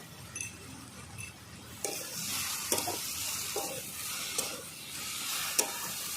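Jute leaves and prawns frying in a pan, stirred repeatedly: a quiet sizzle runs underneath while a spatula scrapes and clinks against the pan in roughly regular strokes, close up with no voices.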